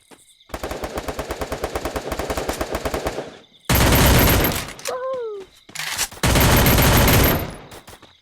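Rapid automatic gunfire in a shooting video game, a long loud burst of machine-gun fire followed by more dense, heavy volleys with brief gaps, and a voice briefly calling out between the bursts.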